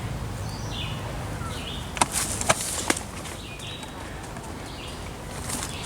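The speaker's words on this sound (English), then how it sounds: "Fantastic sounds of birds." Scattered birdsong chirps and calls ring out in open woods in Highland Park, light and intermittent over a soft background, with a few sharp clicks near the middle.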